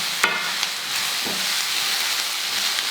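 Onions and mushrooms sauté in a pan for beef stroganoff, giving a steady bright sizzle broken by a few soft stirring knocks near the start, close by with no talking.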